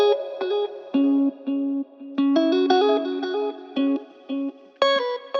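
Electric guitar played through a character preset from the Guitar Masters 2 kit for an emotional R&B-style beat: a melodic phrase of sustained single notes and short bends, coloured with chorus, light distortion and reverb, close and alone.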